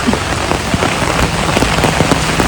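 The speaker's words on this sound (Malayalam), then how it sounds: "നല്ല മഴയാണ് കേട്ടോ" Heavy rain pours steadily onto a hard surface, dense spattering drops with occasional louder splats, close and loud throughout.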